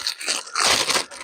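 A plastic packet of tortillas being torn open at a wild camp in the Peak District, close crinkling and rustling in short bursts with no talking.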